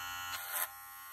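A rechargeable pet hair clipper with a very sharp ceramic blade and an LED display runs briefly during a cutting test, giving a faint, short electric buzz that swells and then stops in an otherwise quiet space.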